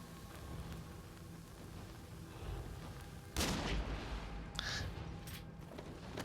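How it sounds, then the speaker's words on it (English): A hand cannon fires in the video game Nioh 2, one loud, booming blast rising over a rumbling ambient bed, followed by a brief clattering echo; no talking. "Maybe from a hand cannon shot?"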